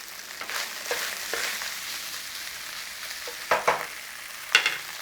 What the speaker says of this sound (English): So we're just putting some colour on that sausage meat.